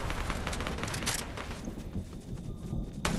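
A dense rattle of video game gunshots fires in a fast, continuous volley, loud and close, ending with one more sharp crack.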